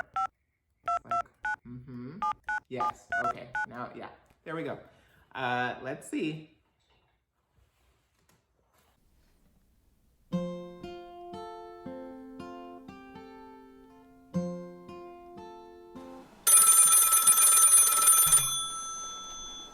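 A phone keypad taps out a number in quick tone bursts mixed with talk, then a ringback tone repeats several times before a loud bright ringing burst near the end.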